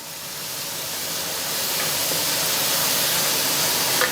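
Onions fry in a pan for a curry while being stirred, giving a steady, close, loud sizzling hiss that builds slightly and continues without pause.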